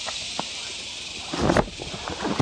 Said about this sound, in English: I apologize for the cicadas. Like, oh my gosh, like how can those be so loud?